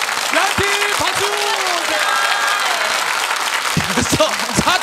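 Studio audience applause on a Korean variety game show fills the room as steady, loud clapping throughout, with voices speaking and exclaiming over it.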